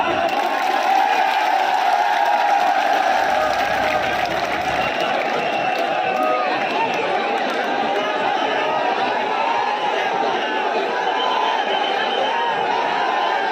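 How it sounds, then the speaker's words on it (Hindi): A large crowd at a youth road-blockade rally claps and cheers without a break, a dense wash of applause mixed with chatter and whoops. "शाबाश, अरे जोरदार ताली बजाओ"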